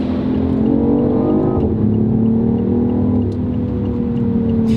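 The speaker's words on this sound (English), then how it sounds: "you hear the electric motor start whining too" Loud, steady engine drone inside the cabin of a BMW i8, with tonal electric-motor whining layers that shift in pitch as the car moves.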